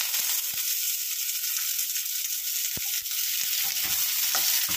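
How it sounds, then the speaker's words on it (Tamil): Green chili and onion sauté in a hot pan with a loud, even sizzle that holds throughout, broken by a few sharp clicks of a utensil. "ஸோ இது நல்லா வதங்கட்டும்."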